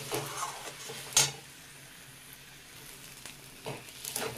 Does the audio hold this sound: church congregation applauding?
no